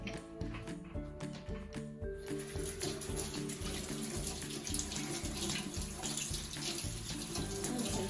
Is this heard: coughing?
no